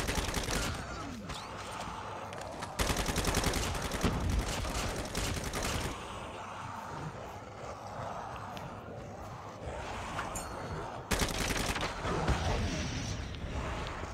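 Sustained automatic machine-gun fire in Call of Duty Zombies during an endless horde fight, loud and dense bursts with brief breaks, mixed with explosions and game noise throughout.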